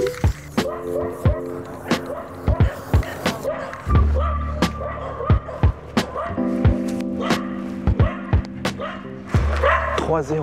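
Several dogs bark repeatedly at a film crew somewhere in Mexico, sharp loud barks and yips coming in irregular bursts, with some whimpering and people talking between them.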